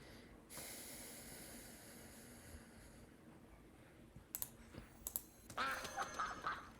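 A Mother Duck card in Hearthstone gives a few short quacks and snorts, faint and close, after a stretch of quiet game ambience with no voices.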